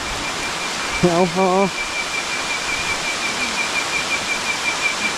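Heavy rain pours down in a steady, dense hiss that continues throughout, with a brief spoken exclamation near the start.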